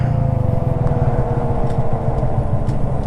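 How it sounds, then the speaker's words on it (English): Steady, loud road and tire roar from a very small motorcycle cruising at around 55 mph, a continuous low rumble with engine drone mixed in, no talking. "See, you can hear that tire noise."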